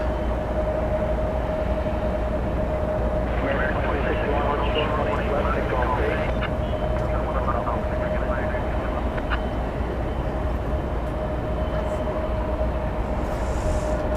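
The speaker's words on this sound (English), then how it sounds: "The 777 Kalita Air DHL is on the move" Kalitta Air DHL Boeing 777 cargo jet moving at DFW Airport at night, a steady broad engine rumble with a constant hum, holding evenly throughout at moderate distance.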